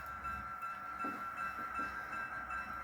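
An HO-scale model railroad gondola car is dropped off during a switching operation, heard as a low, steady mechanical hum with a few soft clicks and knocks near the middle.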